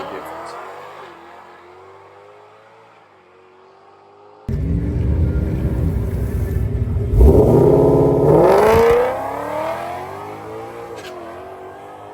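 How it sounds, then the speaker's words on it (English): A car, naturally aspirated and then boosted, runs at a race track: a quiet passage gives way to a loud engine rising through revs with a sharp upward sweep, then settling back down. "I will go ahead and show you a short clip of the car at the track"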